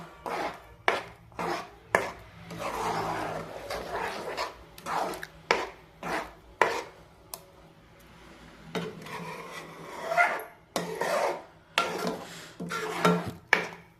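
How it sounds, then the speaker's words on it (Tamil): Sugar, pineapple and semolina being stirred together in a pan for pineapple kesari, giving repeated close scraping and rubbing strokes of a spoon in a steady rhythm, with no talk. "சர்க்கரை, பைனாப்பிள், ரவை எல்லாத்தையும் போட்டு நல்லா கிண்டிக்கிட்டே இருக்கலாம்."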